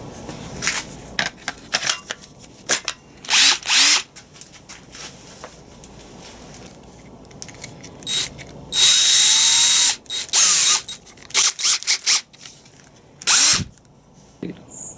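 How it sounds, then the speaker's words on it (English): Power drill boring into a Land Rover Defender TD5 clutch master cylinder part, with several short whining bursts separated by quieter handling noise, including one longer high-pitched run near the middle, close and loud. "I'm going to drill this out here"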